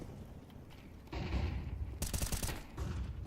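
Pistol gunfire cracks out in a competitive shooter match played on a map with ramp, B site and smoke grenades. After a brief lull come rapid, loud bursts of shots, with no talk over them.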